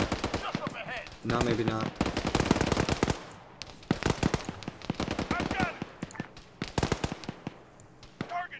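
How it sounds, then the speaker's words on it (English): Arma 3 gunfire during a convoy-protection firefight, bursts of rapid shots and scattered single cracks, loud and dense, with players talking over the shooting. "I think they're taking shots from a different place now."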